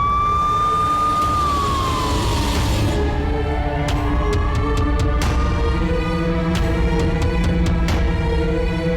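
An ambulance siren wails loud and close, rising and falling in pitch over a steady vehicle rumble, with a string of sharp clicks cutting through it near the end.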